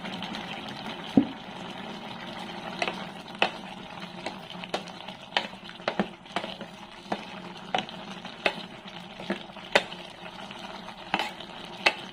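Sautéed bottle gourd with pork is stirred in a pan over a soft, steady sizzle, a spoon scraping and clacking against the metal in repeated strokes, close and fairly quiet with no talking.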